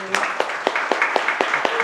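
An audience at an indigenous education talk claps steadily, with sharp separate claps landing in an even rhythm over a softer bed of clapping, close and fairly loud.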